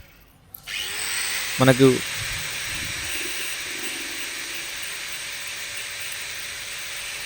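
A small power grinder cuts a stuck screw on a gas stove knob, a steady high whine that starts abruptly and runs throughout, while someone speaks briefly over it.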